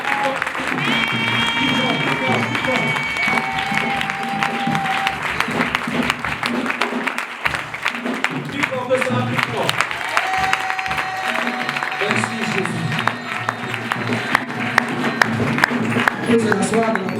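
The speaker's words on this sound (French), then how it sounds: "Acclamons le Seigneur. Acclamons plus fort, plus fort" A church congregation at an Easter service claps and cheers loudly and continuously throughout, with a voice speaking and singing over the applause and music.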